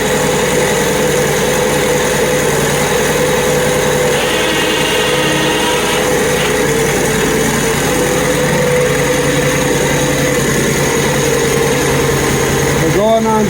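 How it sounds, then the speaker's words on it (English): The small engine of a portable sawmill for milling hard maple warms up, a constant, loud, high-pitched idle that stays steady throughout, with faint talk over it outdoors. "Him warming up the mill, getting ready to go."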